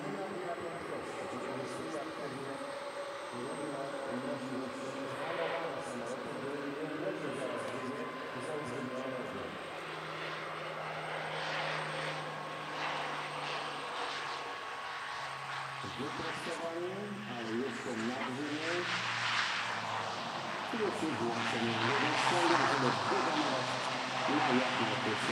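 Light aircraft engine at an airshow in Radom, droning and changing pitch through a stall demonstration, steep approach and short landing roll, heard at a distance with a commentator talking over it throughout.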